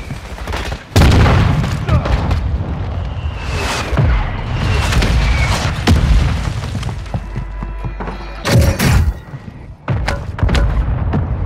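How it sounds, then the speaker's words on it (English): Mortar strike in Call of Duty Warzone 2 on the Vondel map: a series of heavy booming explosions and thuds land at irregular intervals, some close and loud, mixed with gunfire and game effects. "Hostile mortar strike in the area"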